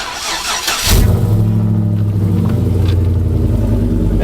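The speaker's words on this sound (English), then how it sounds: "Listen, cold start of Betty." A cold car nicknamed Betty, freshly fitted with new rods, cranks and fires into a loud rumbling start, then settles straight into a steady, low idle that drops quickly rather than holding high.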